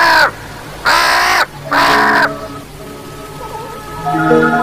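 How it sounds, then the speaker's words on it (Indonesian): A crow circling overhead gives three loud, harsh caws in a row, close and clear, followed by softer bird calls and a faint background hiss. "Burung itu masih berputar-putar di atas sana."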